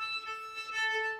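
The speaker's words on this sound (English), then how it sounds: "If pressure is not enough, it will be squeaky sound" A thin, whistly violin tone with high squeaky overtones, wavering and unsteady for about a second, played alone.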